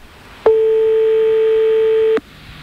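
Telephone call being placed: a single steady tone sounds clearly for just under two seconds, then cuts off, alone with no talking.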